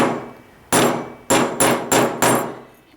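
Four sharp metallic hammer strikes on a metal stamp ring out, one, then a quick series of three, each with a short ringing decay.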